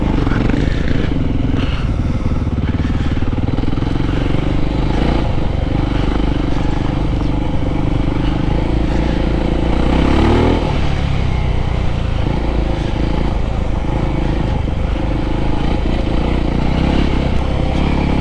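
An adventure motorcycle rides a dusty track at a rider festival, its engine loud and constant up close, with rattles, gravel scrape and a rear wheel briefly locking up.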